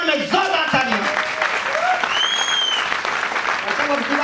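An audience at a business seminar in Delhi claps loudly in honour of a guest, a thick continuous burst of applause with a voice speaking over it and a few whistles rising above the clapping.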